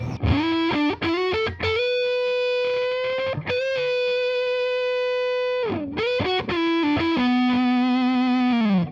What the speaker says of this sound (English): now I've got all my tone back with the fuzz all the way up, and to get all that sustain